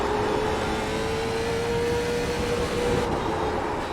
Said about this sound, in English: It's just got an amazing engine sound.